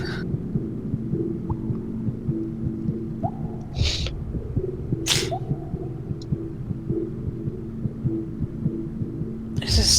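A slow, muffled heartbeat throbs in the horror video game They Breathe, low and regular beneath an eerie hum, with a few sharp bursts of other game noise breaking in.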